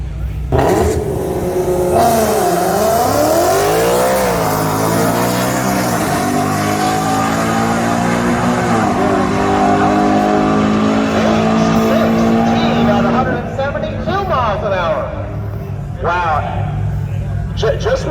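Twin-turbo Audi R8 on a drag strip, a loud sustained engine roar rising through the gears for most of the run, with a crowd and announcer talking over it before the noise drops away near the end.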